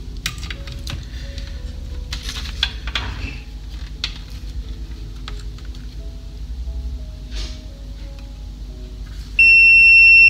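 A multimeter in continuity mode checks fuses on an MSI AMD HD 7970 graphics card. Scattered clicks and taps of the probes come first, then a steady, loud, high-pitched beep sounds alone at the very end.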